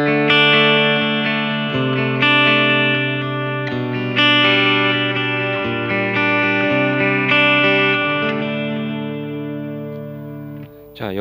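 An electric guitar played through a Kemper Profiler Stage with a delay effect rings out in sustained chords, each echoing and trailing off, loud and close, ending with a short bent note.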